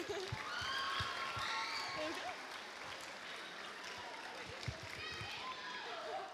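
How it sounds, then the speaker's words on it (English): Applause from a small crowd at an HPAC quiz event, a steady clapping wash with scattered cheers and voices mixed through, fairly faint overall. "Round of applause for Mila and Millie."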